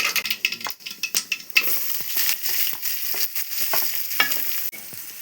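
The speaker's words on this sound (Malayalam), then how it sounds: "ഇനി നമ്മളെ സവാള തട്ടി കൊടുക്കാൻ പോവാണ്" Onions dropped into hot oil with mustard seeds in a pan on a wood-fired stove, crackling and spitting loudly at first, then settling into a dense sizzle broken by sharp stirring scrapes and pops.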